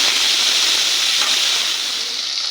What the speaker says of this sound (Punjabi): ਆਪਾਂ ਤੇਲ ਗੈਸ ਤੇ ਐਦਾਂ ਇਹਨਾਂ ਨੂੰ ਥੋੜਾ ਜਿਹਾ ਭੁੰਨ ਲਿਆ 1-2 ਮਿੰਟ